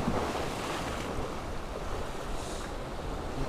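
Boat motor passing at sea during ultralight lure casting, heard as a steady broadband rush mixed with surf and wind noise on the microphone, continuous and fairly loud throughout with no talk.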